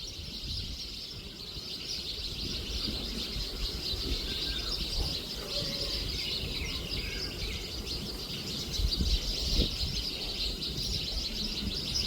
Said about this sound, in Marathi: चिमण्या बघ चिव चिव करतात